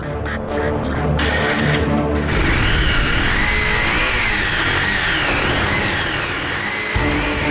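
A motorcycle that has stood in a garage for many days is started, a rough mechanical clatter giving way to a loud, steady engine run close by, with a brief thump near the end.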